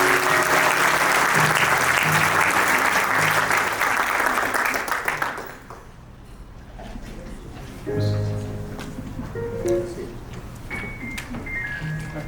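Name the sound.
applause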